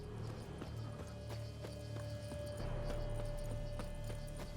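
Horse hooves clip-clop steadily in The Witcher 3, a rhythmic gait over a constant game music and ambient bed, with no talking.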